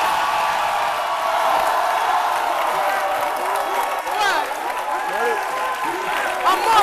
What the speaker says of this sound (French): Je veux qu'on applaudisse à Jean-Michel Honal.